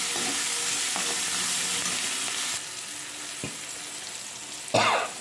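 A spoonful of asafoetida is stirred into masala dosa filling frying in a pan. A steady sizzle runs throughout, with a few brief spatula knocks and a louder scrape near the end. No one speaks.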